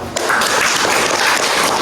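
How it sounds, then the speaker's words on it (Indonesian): Classroom applause breaks out right after a group finishes its morning presentation: many hands clapping together in a dense, steady, fairly loud patter that continues throughout. "Ya, tepuk tangan"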